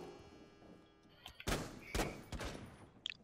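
Gunfire in a shooter game, with a few sharp, heavy shots spaced about half a second apart, each followed by a short echoing tail over a low background hum.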